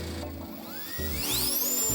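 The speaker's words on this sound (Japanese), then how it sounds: "次にグリルの水を飛ばしてみたいと思います。" A powerful handheld blower blasts water off a car grille during a wash: a loud, high motor whine sweeps upward in pitch as it spins up, over a broad rush of air.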